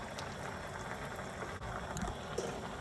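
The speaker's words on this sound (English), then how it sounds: "This is simmering nicely" Shrimp creole simmering in a pot, a soft continuous bubbling with faint pops and gurgles, quiet and close.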